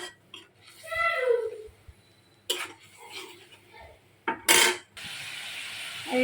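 A pot of chickpea curry with water and salt is stirred, giving a few sharp metallic clanks and scrapes between quiet gaps. A low sizzle runs steadily near the end.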